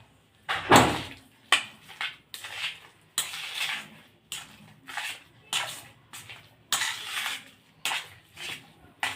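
Onion bonda batter being stirred by hand in a bowl, heard as about a dozen close, rhythmic wet slaps and scrapes roughly one per second, with no talking.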